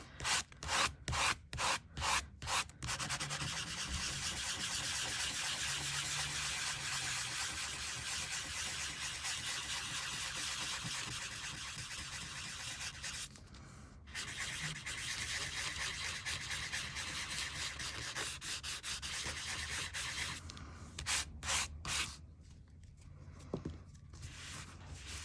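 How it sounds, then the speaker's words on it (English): Dried metal tape art is buffed with steady, close rubbing strokes that run almost without a break, opened and closed by short rhythmic rubbing bursts and interrupted by a couple of brief pauses. "As soon as they are dry to the touch, we can buff them up."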